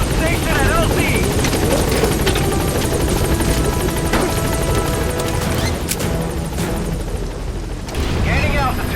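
Helicopter in Metal Gear Solid V: The Phantom Pain climbing away from a landing zone, a loud continuous rotor roar with steady chopping throb, game voices and scattered bursts of combat noise layered over it throughout.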